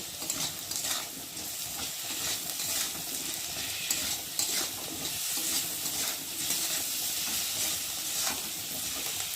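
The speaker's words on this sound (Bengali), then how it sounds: "দিয়ে মশলাটা ভালোভাবে আলুর সাথে কষিয়ে নেব।" Spice paste with turmeric, cumin and ginger being sautéed with potatoes produces a steady frying sizzle with repeated spatula stirring scrapes, moderately loud and without voices.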